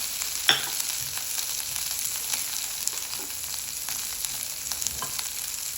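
Potatoes fry in hot oil with cumin seeds, curry leaves and asafoetida, a loud, steady sizzle close up with a brief sharp spike early and light stirring scrapes throughout, no voices.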